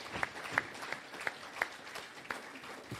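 A congregation claps during a sermon, a few sharp, scattered claps spaced out over a few seconds, faint in a quiet, roomy space.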